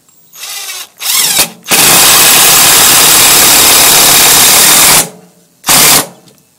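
A Kobalt 18-volt lithium-ion cordless drill backs bent old 3-inch deck screws out of wood, with two short bursts, a long loud steady whirring run, then another brief burst, all very close.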